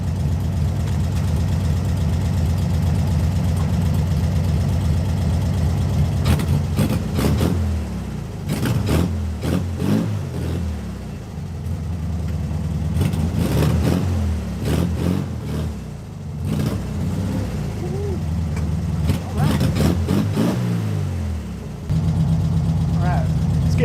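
A 1966 VW Beetle that sat for five years idles roughly up close, its low rumble broken by uneven surges and sharp mechanical clatter.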